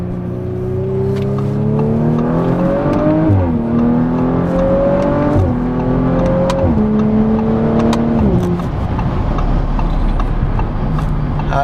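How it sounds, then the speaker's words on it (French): Audi RS5 accelerating hard through the gears, its engine note rising in repeated sweeps, with a short exhaust boom at each of several shifts, loud and close from inside the car. "à chaque changement de rapport, le petit boom dans l'échappement qui est très sympa."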